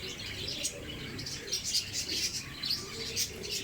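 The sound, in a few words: pigeons cooing at a pigeon market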